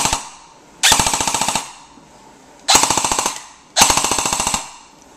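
A JG M4 CQB airsoft rifle firing through a homemade two-layer PVC silencer in three quick bursts, each a loud, close, rapid string of snapping shots separated by short pauses.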